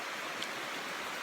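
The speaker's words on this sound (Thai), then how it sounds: "บ่ได้ไปเวียกฝนตกแหง" Steady rain falls outdoors, a dense, even hiss with no voices and no distinct drops standing out.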